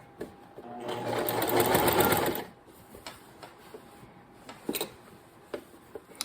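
A sewing machine stitches down the top side of a quilt in one close, steady whirring run of about a second and a half, then stops, leaving faint handling taps and clicks.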